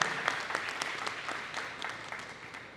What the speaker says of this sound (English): Giving him an applause to Michael